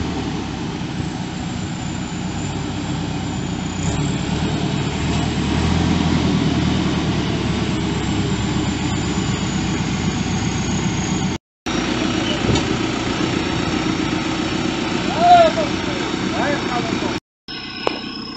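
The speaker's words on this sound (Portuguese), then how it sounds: "está chegando aí então o trator que vai então nos ajudar na preparação do caminho" Steady low engine drone of an arriving tractor on a rural farm road, continuous and fairly loud for the whole stretch, with brief cuts and a faint higher tone near the end.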